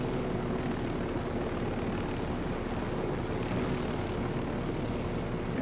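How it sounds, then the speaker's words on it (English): A helicopter in flight in Ghost Recon Wildlands, a continuous, loud, even rotor and engine drone that holds steady without a break. "I think I'm stealing another helicopter"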